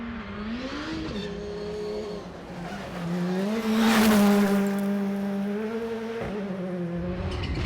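A two-wheel drive rally car at the Rally of the Tall Pines, pushed hard on a stage, its engine note rising and falling through gear changes with tire squeal and skidding, loud and close throughout.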